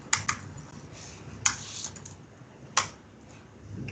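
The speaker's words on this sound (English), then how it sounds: "Pressures of typing while everybody is watching." A few sparse, crisp clicks on a computer keyboard, spaced over a few seconds against a quiet room hum.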